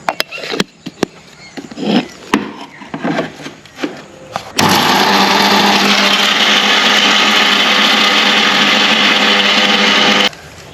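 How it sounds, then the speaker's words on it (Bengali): An electric mixer grinder grinds dried cow's milk into powder. A few knocks and scrapes come first, then the motor starts with a sudden loud, steady high whirring roar that runs about six seconds and cuts off. "এবার মিক্সিতে গুঁড়ো করে নেবো"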